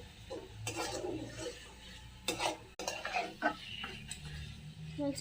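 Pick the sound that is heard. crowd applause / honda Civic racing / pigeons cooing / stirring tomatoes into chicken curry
stirring tomatoes into chicken curry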